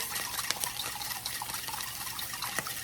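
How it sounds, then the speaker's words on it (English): Sauce poured a little at a time into a cooking pan, a soft steady liquid gush with faint dripping and splashing, quiet and continuous. "make sure that you give it a good stir before you pour it a little bit in"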